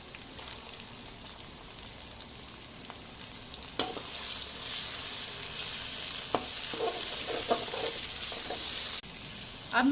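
Boneless chicken frying in a pan with onion and ginger garlic paste, a steady loud sizzle with occasional stirring scrapes and clicks of a utensil.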